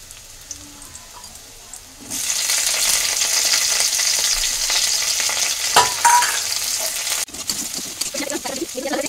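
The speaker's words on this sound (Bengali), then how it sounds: "এবার দিয়ে এটা ভেজে নেব।" Capsicum hits hot oil in a wok beside pushed-aside onions, a sudden loud sizzle that holds steady with occasional stirring scrapes and clinks, dropping in intensity near the end.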